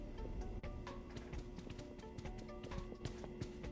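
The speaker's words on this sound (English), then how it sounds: "I hear footsteps!" Footsteps sound in the Five Nights at Freddy's: Security Breach video game, a steady, rhythmic run of hard clopping steps that are close and clear over a constant low background hum, with no voices.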